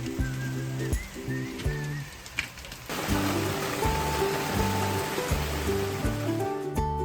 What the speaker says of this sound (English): 20 minutes later, there's hail